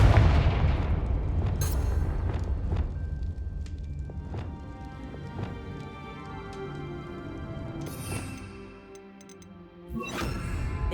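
Explosive Confringo spell blasts in the Hogwarts Legacy video game: several sharp booming impacts over a dense, loud rumbling battle background with sustained music, the bursts recurring irregularly throughout.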